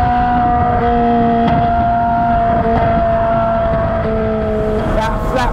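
A loud, close Ferrari 458 Spider's naturally aspirated flat-plane-crank V8 roaring at high revs toward 9,000 RPM, a steady high-pitched howl with slight shifts in pitch throughout.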